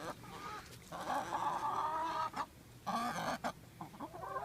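Chickens cluck in a busy flurry while being fed bread, their calls close and loud with short pauses between bursts.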